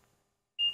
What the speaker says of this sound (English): you'll see the green light went off, and it beeped